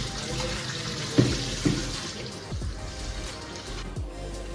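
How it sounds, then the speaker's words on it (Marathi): Running tap water splashing into a sink, with a few sharp knocks and clatters as chicken is rinsed and handled under the stream. "चिकन आता मस्तपैकी आता पाण्यामध्ये धुवून साफ करून घ्यायचे"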